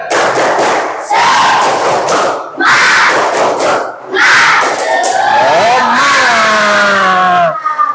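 Schoolchildren in a classroom shout a loud rhythmic clapping chant together, tepuk semangat, in repeated bursts separated by brief pauses, with excited voices rising near the end.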